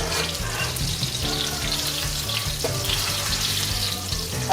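Chicken cutlets for chicken parmigiana fry in a pan with a steady, close, crackling sizzle that runs without a break, with no talk over it.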